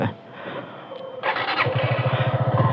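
A motorcycle with its wheel stuck in sand revs hard, moving from a rough engine note into a loud, pulsing, strained drone that stays close.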